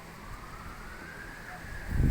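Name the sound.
emergency vehicle sirens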